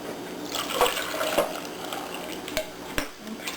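Custard flan mixture poured into a dish in a kitchen, a soft liquid stream with occasional clinks and taps of utensils against the dish, close by.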